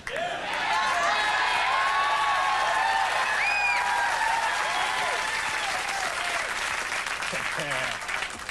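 Late-night TV studio audience applauding, a loud, steady wash of many clapping hands that carries on for the whole stretch, with scattered whoops and chuckles and voices talking over it.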